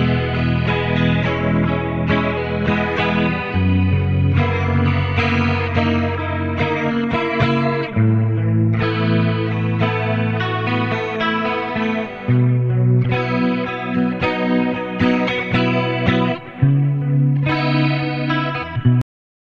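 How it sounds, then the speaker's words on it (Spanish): Electric guitar track played through a delay effect set at -10 dB, a sustained, chorused and slightly distorted part with soft repeats trailing behind the notes, loud and continuous throughout with no voices. "Escucha ahora entonces cómo suena el track con el delay en menos 10."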